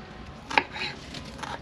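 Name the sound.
knife chopping ingredients on a cutting board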